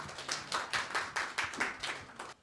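At a construction-industry breakfast forum, the audience claps to welcome a lecturing lawyer, a brief round of distinct, rhythmic hand claps, fairly close and moderately loud, that tapers off quickly.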